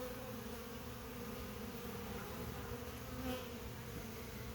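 Honey bees buzz around a hive while gathering nectar and pollen, a soft continuous hum with a faint droning overtone, distant and steady throughout.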